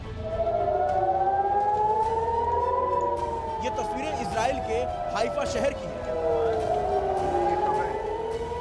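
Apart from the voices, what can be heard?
civil defense air raid sirens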